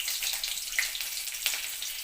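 Green chillies and garlic hit hot oil in a wok before leafy greens go in, giving a continuous bright sizzle with a couple of sharper spits and pops, close and steady, no voices.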